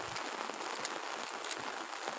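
Rain falling steadily in a village during the monsoon, a faint, even patter across the whole stretch with no voices heard.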